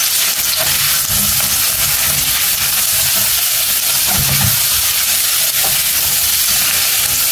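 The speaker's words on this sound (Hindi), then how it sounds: "हल्का सा फ्राई करना है, साथ ही जाएगी हरी मिर्च, साथ जाएंगे फ्राइड चिकन" Green chilies and fried chicken fry in a pan with a loud, continuous sizzle and hiss, punctuated by occasional stirring clatter and soft pops, close-up with no voices.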